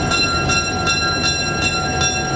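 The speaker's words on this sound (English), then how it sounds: "Here's a General Motors SW7 switcher, just painted, in Burlington colors." A General Motors SW7 switcher toy train in Burlington colours runs steadily on its track, a continuous mechanical whir with faint repeating clicks roughly every half second, heard alone and close up.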